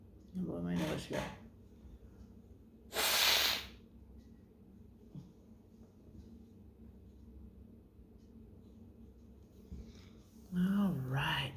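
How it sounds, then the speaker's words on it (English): One short, close, breathy nose blow into a tissue, a single burst of hiss standing out in a quiet room, with someone talking before and after it. "I'll blow my nose here."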